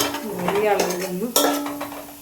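A metal spoon scrapes and clinks against a pan as fried onions are scooped out for beef biryani. There are a few close, distinct scraping strokes and a sharper knock near the end, with no talking.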